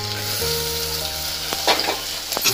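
Potatoes sizzle steadily as they fry in a pan with a cooking paste, with a few sharp clicks of utensils stirring them. Background music plays under the sizzling, and nobody speaks.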